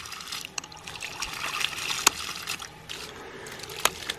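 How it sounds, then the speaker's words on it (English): Water trickling and splashing through a dual-output ram pump as it is cycled, with faint continuous flow broken by a few sharp clicks of the valve. "I'm going to go ahead and just cycle the pump a few times, and it's going to push that pressure into those lines."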